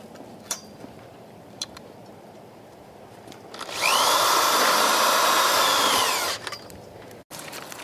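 A power drill drives a tek screw into the metal frame of a chicken tractor, a loud close whirring burst of a couple of seconds after a few sharp clicks and taps.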